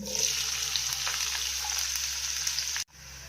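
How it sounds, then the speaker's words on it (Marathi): Chopped onions with curry leaves, cumin and garlic sizzle and crackle steadily in a hot pan, a loud continuous fry close by that cuts off abruptly near the end. "कांदा चांगला ब्राऊन करून घेऊया।"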